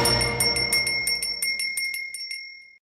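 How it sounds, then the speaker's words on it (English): A bell rings quickly in a rapid series of bright metallic strikes, loud and close, then fades out into silence with no one speaking. "That's the bell of liberty telling you to rise and shine."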